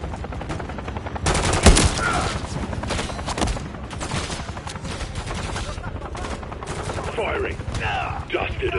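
Heavy machine-gun fire in a Call of Duty Black Ops 6 video game, loud sustained bursts of rapid shots with sharp single cracks and rumbling echoes, faint radio-style voices briefly audible near the end.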